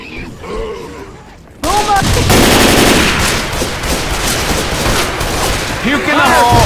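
Rapid bursts of gunfire in Left 4 Dead 2 erupt after a quieter start, loud and dense automatic fire continuing alongside game voices and shouting.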